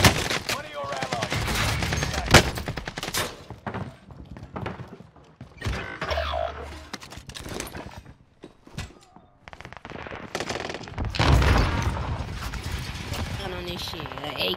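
Rapid rifle fire from an AK in a video game, crackling through dense game noise and excited voices talking over the shots.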